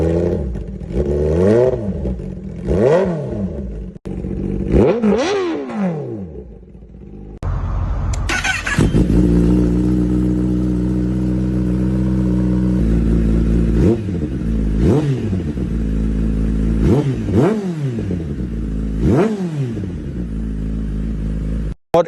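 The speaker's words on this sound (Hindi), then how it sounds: "तो शॉर्ट कैन में हमारे पास दो ऑप्शंस है, SE का CRT एडिशन एंड एक्रा का भी शॉर्ट कैन में आता है। आप दोनों की साउंड सुन लीजिए।" Motorcycle fitted with SC CRT and Akrapovic short-can exhausts, revved repeatedly up and down in sharp bursts, close and loud, with a steadier held rev in the middle.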